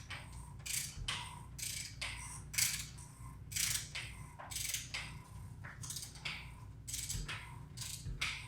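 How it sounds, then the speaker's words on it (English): A torque wrench ratchets in repeated clicking bursts, about eight close, crisp strokes, while tightening the drain plug to 20 foot-pounds during an oil change on a VW MK7 Golf. "So let's set our torque wrench to 20 foot-pounds."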